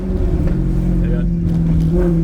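A Maserati GranTurismo S with sport catalysts and silencers idles close by with a deep exhaust rumble, the engine blipped in short rises of revs, while voices talk over it.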